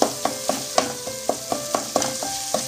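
A spoon scrapes and clacks in a pan as tomatoes are stirred into a frying mutton gravy, about ten evenly spaced strokes over a soft steady sizzle, close and fairly quiet with no talking.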